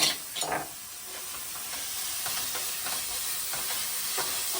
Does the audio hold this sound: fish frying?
yes